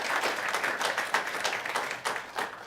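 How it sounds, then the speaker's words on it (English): An audience at a women-in-building panel event applauds a guest being introduced, a steady dense wash of clapping with individual claps popping out, filling the clip without talk. "Please give a round of applause"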